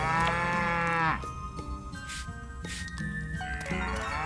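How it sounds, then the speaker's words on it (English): A cow mooing in the farming game Story of Seasons: Pioneers of Olive Town, a long loud drawn-out moo followed by shorter, quieter lowing calls over light game music. "Let's milk our cow, Miku."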